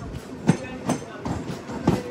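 A MEMU passenger train runs on rails between Dharmavaram Junction and Basinpalli, giving four evenly spaced wheel clacks over a steady rolling rumble, moderately loud and close.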